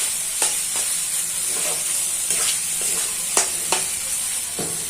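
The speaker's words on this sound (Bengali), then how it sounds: "ওকে কষতে হবে।" Mushrooms sautéing in a pan for kosha, a loud continuous sizzle close by, broken by regular scraping knocks of a spatula stirring.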